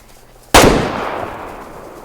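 A single sharp rifle shot from the hunting video game Way Of The Hunter, loud and close, cracks out and then rolls away in a long fading echo lasting over a second.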